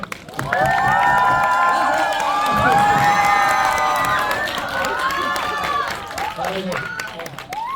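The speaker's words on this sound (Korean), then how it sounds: "큰 박수 부탁드리겠습니다" A cinema crowd at a film stage greeting cheers and shouts loudly with scattered applause, the noise swelling early and tapering off toward the end.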